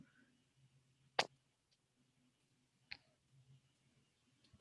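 Computer mouse clicks and light key taps while composing a tweet, two sharp distinct clicks a couple of seconds apart with faint tapping between, close and quiet in a hushed room.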